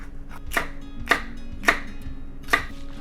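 Four sharp knife chops on a cutting board slice through a poblano pepper from the garden, evenly spaced at roughly half-second intervals, close and crisp with no talking.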